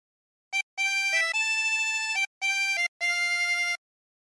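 Chromatic harmonica plays a phrase of O Christmas Tree, with clean sustained reedy notes in a few short groups separated by pauses, close and solo.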